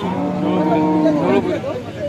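Cows at a cattle market in Alephata let out a drawn-out, nearby moo that fills the short moment, with faint market background around it.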